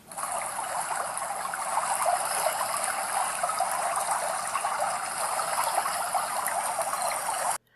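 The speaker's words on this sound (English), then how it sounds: "The horse is drinking water." Continuous, fairly loud water flowing and trickling where a horse drinks, a steady, even rush without pauses that cuts off abruptly at the end.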